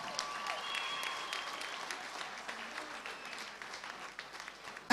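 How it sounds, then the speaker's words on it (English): Crowd at a charity event livestream gives a round of applause, a steady, moderately distant patter of clapping that fades toward the end. "So can we give them a round of applause again?"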